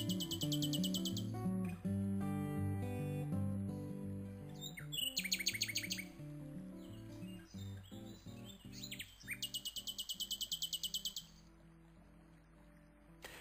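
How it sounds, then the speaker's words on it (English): Small birds chirp and tweet in bright repeated bursts over a soft stream murmur, with low plucked guitar notes playing underneath the whole time. "the soundscape, which remember comprises the stream and the birdsong"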